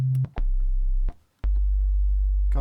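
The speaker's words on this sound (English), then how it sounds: "So we'll start with just a sine wave." Pure sine tones from the oscillator of a PWM Mantis hybrid synthesizer: a low steady hum that cuts out and returns twice with sharp clicks at each switch, ending in a brief brighter buzzy burst.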